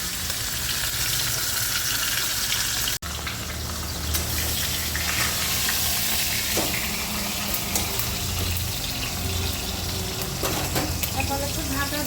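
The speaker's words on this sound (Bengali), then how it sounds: "এখানে মাছের মাথাটার মধ্যে নুন আর হলুদ একটু মাখিয়ে নিয়েছি। এখন কড়াইয়ের তেলটাও গরম হয়ে গেছে" A fish head rubbed with salt and turmeric drops into hot oil in a kadai and sizzles steadily and loudly, a continuous close fry with faint kitchen clatter.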